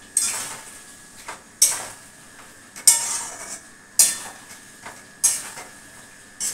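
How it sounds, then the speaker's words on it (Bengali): Fried pointed gourd stirred in a hot pan, with a series of sharp metallic scrapes and clinks of a spatula against the pan at roughly one-second intervals, each followed by brief fading rattles, close and without talk. "তারপরে দিয়ে দিচ্ছি ভাজা পটলগুলো"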